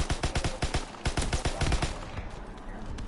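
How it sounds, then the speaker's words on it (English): Rapid bursts of M3 grease gun fire in a World War II video game, a steady stutter of close, loud shots that slows into scattered rounds near the end. "I fucking love this goddamn grease gun"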